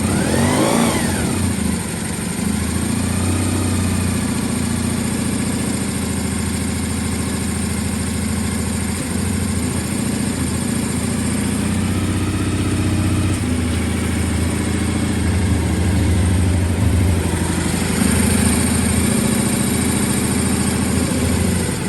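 A Honda VFR400 NC30 motorcycle engine, on full choke after reassembly, runs loud and close with a rough, steady drone and swells of throttle revving throughout, with no one talking.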